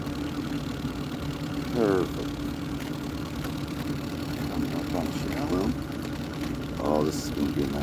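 A fishing boat engine runs steadily at slow throttle, a continuous low drone throughout with someone talking intermittently over it.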